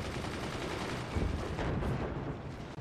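Weapon volley fire in the physics-based fort battle game Forts, a dense, continuous rumble of distant shots and impacts with a slightly heavier burst in the middle, no voices.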